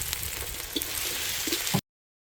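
Onion, ginger, garlic paste, curry leaves, tomato and green chili sizzle steadily in hot oil in a pan, a close continuous frying hiss with a few soft stirring knocks, no talking.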